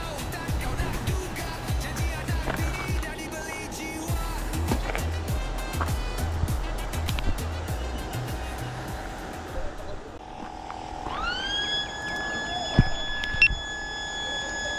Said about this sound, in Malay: siren dah bunyi